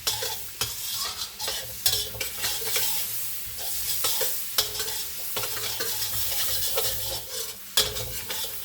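Garlic sizzles steadily in a hot pan while being stirred, with repeated scraping strokes of a utensil against the pan breaking through a continuous crackling hiss.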